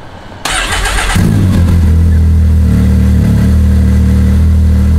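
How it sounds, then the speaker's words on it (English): A Can-Am X3 side-by-side engine cranks and fires after a brief quiet moment, catching with a rising rev and then settling into a loud, steady idle rumble close by. "So we're going to start the car and watch the gauges change"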